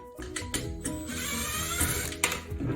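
A power screwdriver whirs steadily as screws are backed out of a vertical blind track, with a few short clicks and bumps from the metal rail, close up and without speech.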